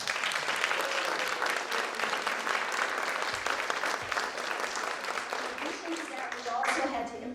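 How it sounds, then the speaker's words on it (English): Audience applause at a fall professional day for staff, a sustained, dense round of clapping from a sizable crowd, tapering slightly near the end as a voice begins to come through underneath. "So let's give them a round of applause"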